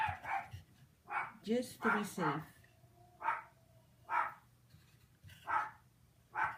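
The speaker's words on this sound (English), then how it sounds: "I'm sorry you hear my dog barking." Several short dog barks, some high and yelping, come in irregular bursts, mixed with a person talking nearby.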